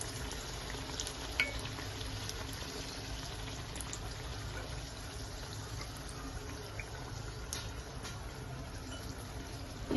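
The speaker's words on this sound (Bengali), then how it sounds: "এইভাবে বন্ধুগুলো সব লুচিগুলো ভেজে নেব।" Chana dal stuffed luchi frying in hot oil, a faint, steady bubbling sizzle that runs throughout with no voices.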